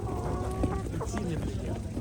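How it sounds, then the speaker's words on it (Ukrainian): A white leghorn hen clucks in short, soft bursts amid other poultry sounds at an animal market, close by, with light background noise. "Нова порода це білий легорн."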